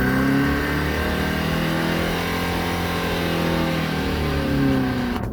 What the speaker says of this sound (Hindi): अब इसकी में जो एक्सेलरेटर है उसको ज़्यादा कर रहा हूँ